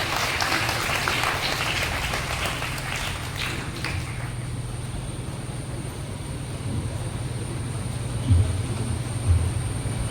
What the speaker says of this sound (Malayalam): നല്ലൊരു കയ്യടി ഇദ്ദേഹത്തിന് കൊടുക്കാം.